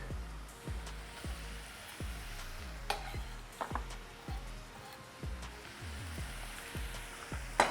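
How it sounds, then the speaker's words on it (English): Garlic and onions sauté together in a pan as a quiet, soft sizzle, punctuated by regular light taps and scrapes of a utensil stirring them, with a few sharper clinks. "I'm just gonna cook this garlic with these onions until it gets fragrant"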